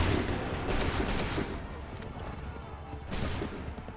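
Musket volleys roar in an Assassin's Creed 3 battle, several dense bursts of gunfire landing close together and loud, with a rumbling tail between shots.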